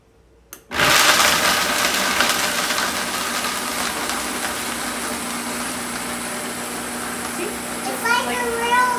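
A Vitamix blender on low setting grinds nuts into homemade nut butter. It kicks on abruptly and holds a loud, steady whirring roar, and voices talk faintly beneath it.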